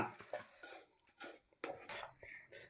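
Ayyangar-style pulihora rice with secret masala is stirred in a pot, a spoon scraping and clinking against the metal in short irregular strokes, close and fairly quiet with faint sizzling underneath.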